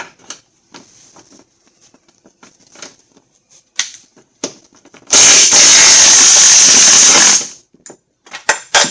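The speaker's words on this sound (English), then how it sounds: "let's get that bolt out of the top" A power tool whirs loudly for about two seconds, removing the top strut bolt on a 2001 Chrysler Sebring, between scattered faint clicks and rustles of work on the car.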